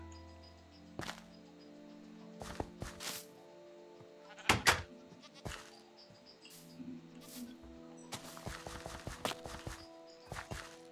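A goat in the survival video game Sea Craft gives several short bleats at irregular intervals around a farm barn and animal paddock, with sharp knocks and clatters between them, all fairly quiet and close.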